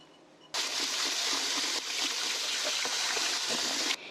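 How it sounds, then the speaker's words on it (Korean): Running water gushes over salted jellyfish being rinsed in a kitchen. It starts abruptly, pours steadily and loudly for about three seconds with a brief dip partway, then cuts off. "해파리는 소금에 절여져 있어요. 아주 어마어마하게 짜게. 그래서 이거를 흐르는 물에 2번 정도 씻어 갖고"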